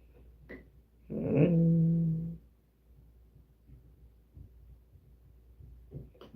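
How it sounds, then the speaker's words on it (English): A dog gives a single loud, drawn-out growling bark-like vocalization lasting about a second, close by, with quiet background noise around it. "now there's a dog barking"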